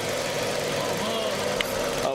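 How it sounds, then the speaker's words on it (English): A car engine idles roughly and misfires with cylinder 4 disconnected, a steady uneven low rumble with slight knocking close to the microphone. "engine's misfiring"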